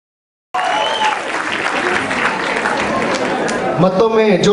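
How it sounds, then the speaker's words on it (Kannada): Audience at a Ugadi celebration concert bursts into loud, sustained applause after a song, starting abruptly and continuing dense and close, with a voice speaking near the end. "ಮತ್ತೊಮ್ಮೆ ಜೋರಾದ ಚಪ್ಪಾಳೆ"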